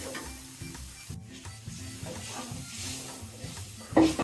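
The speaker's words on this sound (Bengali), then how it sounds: "আমি এখন একটু জল দিয়ে দিচ্ছি" Coconut spice paste sizzles in a pan for a crab and coconut curry while it is stirred. A soft, steady frying hiss runs under scraping, and a brief louder burst arrives near the end as water goes in.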